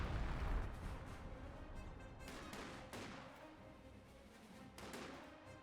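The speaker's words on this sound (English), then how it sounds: "And we've got some artillery raiding on in. That must be major artillery." Artillery barrage in Company of Heroes 2, a dense run of booming shell explosions rumbling one after another, with louder blasts at the start and a few sharper impacts near the end.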